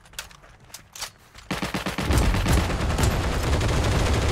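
Gewehr rifle gunfire in the Heroes & Generals shooter game: a few sparse shots at first, then dense, loud overlapping gunfire crackling continuously through the second half.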